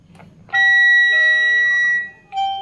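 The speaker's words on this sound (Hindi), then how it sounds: "तो अब हम इसको बेल के बटन को प्रेस करते हैं" A Panasonic VL-SA71 video intercom doorbell rings its indoor chime after the bell button is pressed: a loud, clear two-part electronic tone sustained for about a second and a half, then a shorter repeat note, with no talking.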